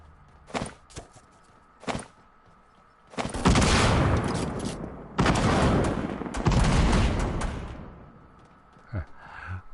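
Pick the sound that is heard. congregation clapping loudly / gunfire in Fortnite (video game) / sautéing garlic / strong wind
gunfire in Fortnite (video game)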